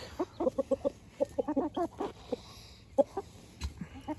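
Chickens and a rooster in a homestead flock cluck close by in quick repeated bursts, with a few scattered calls and a faint low background hum.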